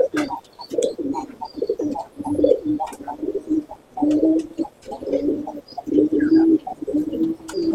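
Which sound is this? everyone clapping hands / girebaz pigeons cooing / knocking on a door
girebaz pigeons cooing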